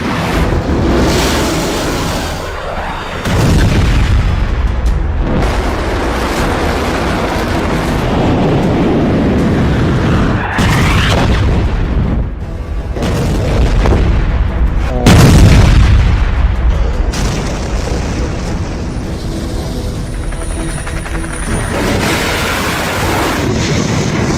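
Iranian missile strikes slipping past US air defenses set off a continuous wall of loud booming blasts and rumbling roars that rise and swell over nearly half a minute, with no gap in the noise.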